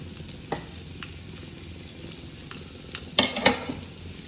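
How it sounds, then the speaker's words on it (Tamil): Mustard seeds in hot oil for tempering rasam give a low steady sizzle with a few sharp pops and crackles near the end, close and fairly quiet, with no voices. "அப்புறம் எண்ணெய் வச்சுருக்கேன், கடுகு போட்டுட்டு"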